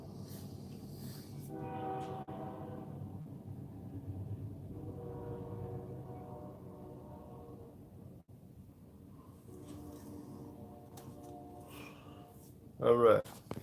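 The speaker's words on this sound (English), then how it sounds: "There goes the train." A train rumbles past at a distance outdoors in a garden, a low steady roar with swelling horn-like tones that rises and fades, while someone speaks nearby and a brief loud knock ends it.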